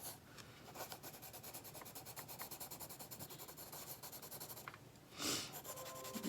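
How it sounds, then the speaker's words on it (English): Colored pencil scratches and rubs across paper in steady back-and-forth strokes, close and quiet, forming a continuous rasp that swells briefly near the end, with no talk. "do color blending with color pencils as well"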